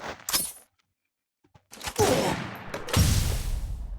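Gunfire in the Free Fire video game, with short bursts at the start, a gap of silence, then dense, loud volleys of shots and impacts that carry on continuously to the end.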